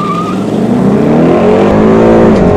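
A Ford Mustang V8 55th anniversary edition accelerating hard, its engine note rising loud and close with a strong rumbling roar and rising pitch over a couple of seconds, no talk.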